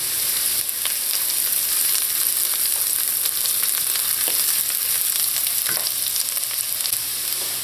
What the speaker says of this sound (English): we're going to saute this until translucent